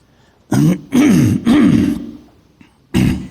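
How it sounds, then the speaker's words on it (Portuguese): A man clears his throat in a few gruff, rasping bursts, then pauses before one final short grunt-like clearing. "Garganta hoje está com pigarrinho."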